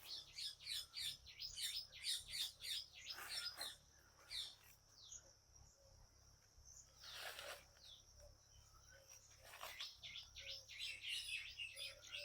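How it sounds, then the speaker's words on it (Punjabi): Many sparrows chirp in quick rapid bursts, joined by a loud piercing peacock call in the middle, all at a moderate distance in quiet surroundings near an old banyan tree. "ਚਿੜੀਆਂ ਦੀਆਂ ਮੋਰਾਂ ਦੀਆਂ ਪੰਛੀਆਂ ਦੀਆਂ ਆਵਾਜ਼ਾਂ ਹਨ"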